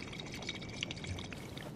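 Water bottles being filled in the video game Life Is Strange 2, a steady pouring and trickling of liquid running throughout, moderately close and even in level, with no talk over it.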